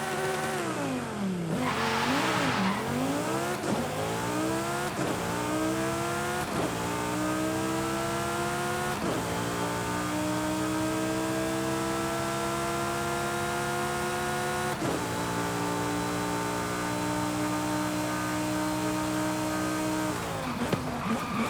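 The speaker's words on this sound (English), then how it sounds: "V12 engine" A Lamborghini V12 engine racing in Forza Horizon 5, screaming as it climbs through the gears with repeated upshifts and a steady high-pitched wail at speed, loud and close with no talk.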